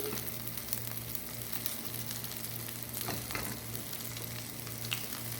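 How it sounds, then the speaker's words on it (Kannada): Rice mixed into prawn fry in a hot pan, with a continuous close sizzle of frying and soft stirring scrapes running steadily throughout. "ಇವಾಗ ರೈಸ್ ಹಾಕಿ ಮಿಕ್ಸ್ ಮಾಡಿ"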